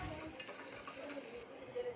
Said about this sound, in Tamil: அடுத்து வெங்காயம், நல்லா பொடிசாக நறுக்குன வெங்காயம், அதை போட்டு நல்லா வதக்கி விட்டுக்கலாம்.